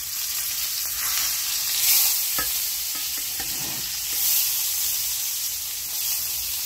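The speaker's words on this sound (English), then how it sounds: "Every side is getting seared." Meat sears in a Dutch oven with a loud, dense, hissing sizzle that swells and eases, joined by a few soft thumps and knocks as pieces are turned, close and continuous with no speech.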